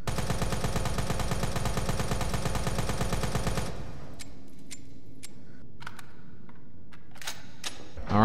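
Infinite CQBR assault rifle in the video game Resident Evil 3 Remake fires a rapid, continuous automatic burst for about four seconds, then stops, leaving quiet with scattered small clicks and clatters.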